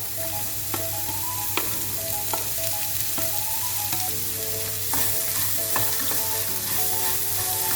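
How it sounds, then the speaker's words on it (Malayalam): Chopped snake gourd sizzles steadily in hot oil in a frying pan while being stirred, with a continuous crackle and light scraping, faint background music underneath. "ഇതിലേക്ക് ചെറുതായി കട്ട് ചെയ്ത് വെച്ചേക്കുന്ന പടവലങ്ങ ഇട്ട് കൊടുക്കാം."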